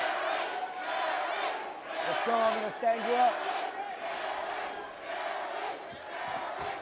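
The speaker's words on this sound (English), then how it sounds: "Listen to this crowd." Roaring MMA arena crowd at a heavyweight bout between Derrick Lewis and Ricky Shivers, a steady wall of shouts and cheers surging in waves, with a commentator and nearby voices talking over it.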